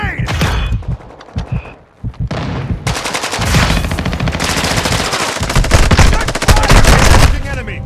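Rapid automatic gunfire in the Call of Duty video game, dense bursts of shots that start after a brief lull and continue loud and nearly unbroken, with faint voices mixed in.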